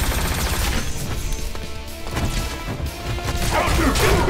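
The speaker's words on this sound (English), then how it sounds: "Proton cannon." Loud, dense proton cannon blasts and crashing impacts in a Marvel video game fire continuously, with heavy booming energy throughout and no talking.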